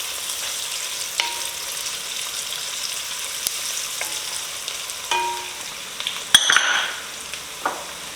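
Garlic frying and being stirred in a pan for Durban curry, with fine ginger also in; a steady sizzle runs throughout, broken by occasional spoon scrapes and clinks against the pan.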